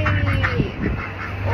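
Pet birds kept under a heat lamp give a few close quacking, duck-like calls over a steady low electrical hum.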